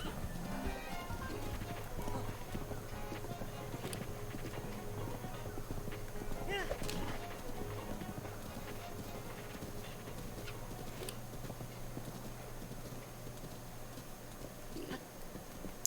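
Horse hooves clip-clopping in Zelda: Breath of the Wild, a steady rhythmic trot heard faintly under game music and someone talking over it throughout.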